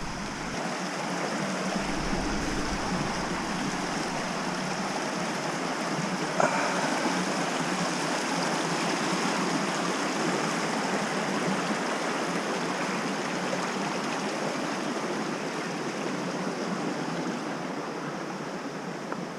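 A small creek flows beside a trail near Squamish, a steady broadband rush of running water heard alone and close throughout, with no speech over it.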